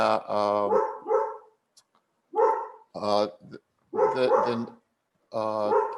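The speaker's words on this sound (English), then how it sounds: "I have a dog barking." A dog barks in a series of loud, harmonic yips and woofs, several bursts with short gaps, close by; speech is likely mixed in.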